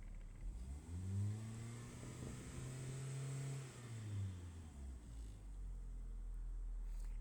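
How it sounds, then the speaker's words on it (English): A car engine with no starter problem fires up and runs, revving up and settling back in a smooth, steady mid-pitched drone close by, then dropping toward idle near the end; no one speaks. "It doesn't need a starter because you just heard it start right up."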